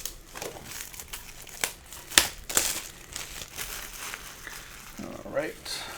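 Plastic wrapping on a Star Wars: Dark Forces strategy guide gets torn open, close crinkling and a few sharp ripping tears, with someone talking softly alongside.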